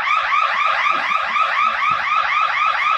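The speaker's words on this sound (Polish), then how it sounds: "No bo włączył nam się alarm." A museum alarm blares loud and close, a rapid repeating electronic warble cycling steadily without pause and heard alone.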